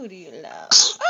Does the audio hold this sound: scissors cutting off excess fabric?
no